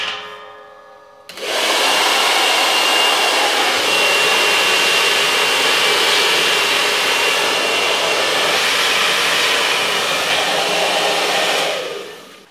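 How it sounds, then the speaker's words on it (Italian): A hair dryer switches on abruptly and blows loudly and steadily for about ten seconds, close to the microphone, before cutting off; used while fitting adhesive decals to car wheel rims. "Proviamo con il phon."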